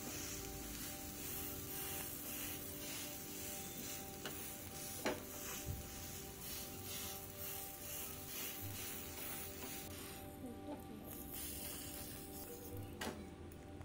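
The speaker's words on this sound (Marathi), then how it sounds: "वरून असं ओलादमाने प्रेशर देऊन सर्व बाजूने आपल्याला उत्तापा छान भाजून घेता येतो" Rava uttapam roasting on a hot griddle while pressed down with a spatula, a steady close sizzle with occasional soft scrapes and taps, no voices.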